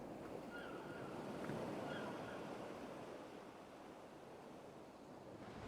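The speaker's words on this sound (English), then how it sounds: "The waves are getting steep." Ocean surf rolling in before a storm in the Kingdom Hearts video game, a steady broad roar of waves with wind, swelling slightly and then easing off.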